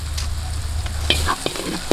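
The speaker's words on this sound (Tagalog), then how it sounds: "Gisa muna natin saglit mga ka-studio para maluto yung mga" Aromatics sauté in an outdoor pan for lechon sisig, a brisk close sizzle with quick spatula clinks and scrapes, loud and continuous over a low rumble.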